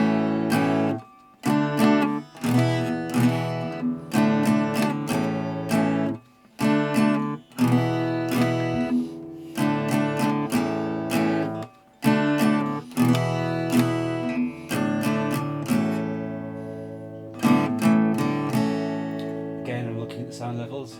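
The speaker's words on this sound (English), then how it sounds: "I also haven't played acoustic guitar in forever." Close, loud acoustic guitar strumming in repeated chord phrases, with brief gaps between sections and chords ringing out fully.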